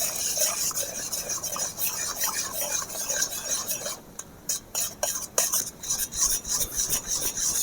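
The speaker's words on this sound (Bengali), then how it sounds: "আস্তে আস্তে করে গুলে নেব।" Spoon stirring five spoonfuls of powdered milk to dissolve it in a bowl while making mango cream, a soft continuous scraping and rubbing rhythm, close and fairly quiet, with brief pauses.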